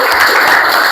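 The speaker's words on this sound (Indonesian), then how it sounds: "tepuk tangan dong" Brief burst of applause from a classroom of students during a lesson, dense steady clapping throughout with no voices over it.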